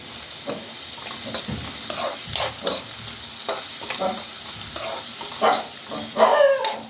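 Onions with a pinch of salt and curry leaves fry in a pan for chicken curry, a close, continuous sizzle broken by repeated scraping stirs and a louder burst near the end, with no voices.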